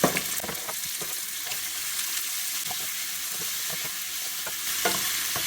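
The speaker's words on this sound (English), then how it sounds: "We're going to brown all this meat now too." Lamb and beef chunks browning in a hot pot for Irish stew give a steady, close sizzle and crackle, with a few sharp pops and scraping stirs breaking through the constant frying hiss.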